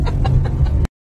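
Chickens cluck close by in a quick run of about five short, throaty pulses over low rumbling background noise before the sound cuts off abruptly.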